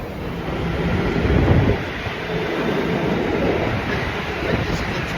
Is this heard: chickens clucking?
no